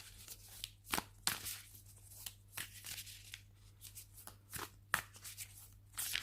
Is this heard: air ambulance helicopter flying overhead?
no